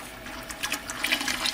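Coconut milk poured into a pot for chai, a short steady liquid splash and trickle, close and clear.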